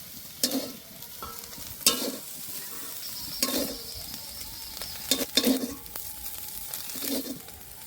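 Soybean chunks frying in oil in a pan for a vegetarian dish, a soft sizzle broken by several distinct stirring scrapes and clatters of the spatula at irregular intervals, close up and without speech.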